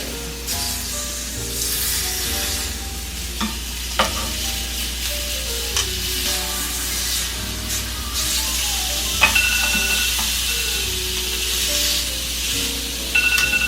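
Filet mignon fries in a pan with steady, close sizzling and grease spattering, broken by scraping stirs and sharp pops, with no talking.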